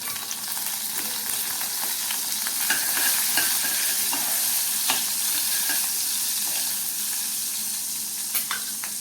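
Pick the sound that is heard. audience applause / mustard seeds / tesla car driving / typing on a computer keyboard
mustard seeds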